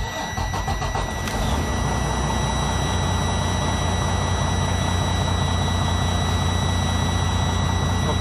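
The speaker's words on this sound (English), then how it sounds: "So now it's time to start the engine." Freightliner Cascadia truck with a Detroit DD13/DD15 diesel cranks briefly and catches, then settles into a loud, steady, unbroken idle rumble for several seconds, with no talk.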